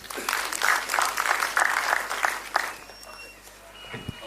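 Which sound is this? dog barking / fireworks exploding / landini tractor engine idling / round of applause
round of applause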